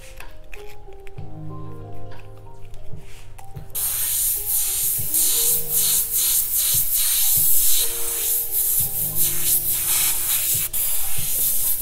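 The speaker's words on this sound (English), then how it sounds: "My airbrush is trailing." Up close, an airbrush sprays paint onto a T-shirt in repeated short hissing bursts over a steady background hum, with no talking.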